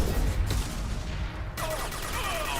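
Heavy weapon fire in Mass Effect 2 booms through a loud, continuous combat din, with a sharp blast near the midpoint and chaotic battle noise on either side.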